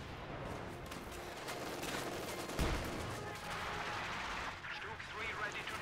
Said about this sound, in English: Again, a lot of artillery over here just lighting them up.